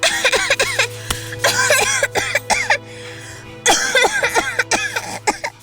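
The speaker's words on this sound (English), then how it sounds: "After a few minutes of play, Siren has an uncontrollable coughing fit." Someone coughs hard and repeatedly in quick bursts, pausing briefly before another round of rough, raspy coughs up close.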